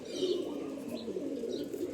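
A racing pigeon cooing softly in a low, continuous murmur, fairly close, with faint chirps above and no talking.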